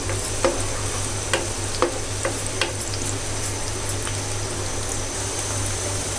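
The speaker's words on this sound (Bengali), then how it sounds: "পেঁয়াজটাকে আমি একটু একটু ভেজে নেই একটু লাল লাল করে" Onions frying in oil in a pan, an even, continuous sizzle with a handful of sharp spatula taps scattered through the first half, nearby and unaccompanied by speech.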